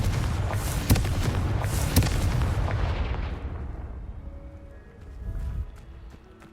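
Confringo spell blasts in Hogwarts Legacy boom in a dense, loud rumble with two sharp cracks, then fade into quieter game sounds and a brief swell.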